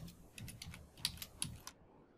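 Typing on a computer keyboard, a quick run of soft, irregular keystrokes close by with a couple of sharper clacks, ending abruptly in near silence.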